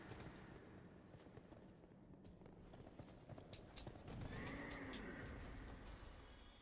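A horse in Dark Souls 2, the Castle Drangleic horse, whinnies with a wavering call over scattered clip-clop hoofbeats and clicking noises, moderately loud against a busy background.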